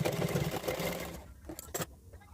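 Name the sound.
sewing machine stitching a blouse waistband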